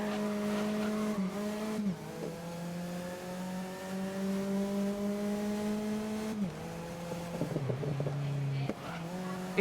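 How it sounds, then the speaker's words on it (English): Race car in the game Grid 2019 on PS4 Pro, engine droning steadily with shifting revs and faint exhaust pops and crackles, some tire noise mixed in, game audio with no talking. "It's the exhaust popping."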